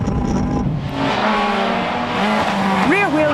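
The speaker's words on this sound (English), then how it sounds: "Rear-wheel drive with a naturally aspirated engine can still send shivers down the spine of rally veterans with its raucous bark." A rear-wheel-drive, naturally aspirated Opel Manta 400 rally car engine revs loudly and close with a raucous rasp, with pitch sweeping up and down near the end.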